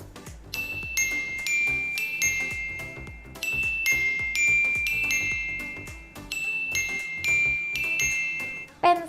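A bright, chiming electronic melody repeats in short bell-like phrases over a steady beat, loud and continuous like a looping ringtone, from a realme 10 Pro 5G Coca-Cola Edition phone.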